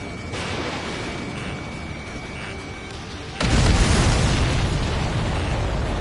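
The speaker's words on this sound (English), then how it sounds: "Did you see that explosion? Looks like that's one of them down." A supply ship blows up in the Ace Combat 7 air-combat game: a sudden loud, sustained roar of explosion bursts in around the midpoint over steady jet engine drone and a faint warning tone.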